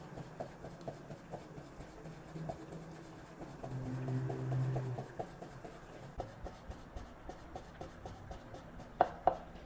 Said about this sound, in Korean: 고기 얇게 썰도록 하겠습니다